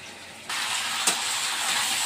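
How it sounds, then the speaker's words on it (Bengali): Chicken pakoras drop into hot oil and burst into a steady, close hiss of frying. A brief spatter pops partway through before the sizzle settles into an even, continuous crackle. "দেখো চিকেনগুলো ঢেলে দিয়েছি চিকেন পকোড়াগুলো কেমন লাগছে দেখতে দারুন"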